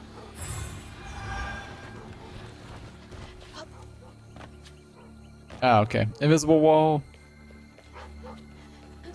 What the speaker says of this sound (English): So we're gonna shut that dog up.